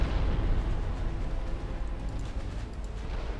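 Torpedo hits exploding in Ultimate Admiral Dreadnoughts, a heavy rumbling roar of naval explosions that stays loud and steady throughout with no talk.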